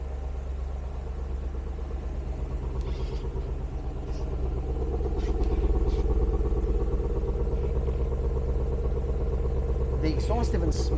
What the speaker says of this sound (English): Nice sound from the exhaust.